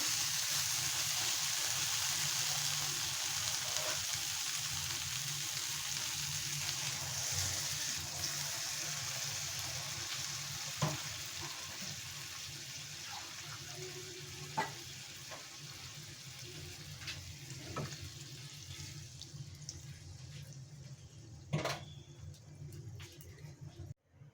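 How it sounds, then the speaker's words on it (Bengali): Water poured into a soybean and potato curry frying in a pan raises a strong sizzle and rushing hiss that slowly fades and settles into quieter bubbling, with occasional clinks of a spoon against the pot. "এবার আমি এর ভিতরে জল দিয়ে দেব।"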